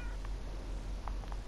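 A pet cat named Kate meows a few times, short faint calls that stand out over a low steady hum in a quiet living room.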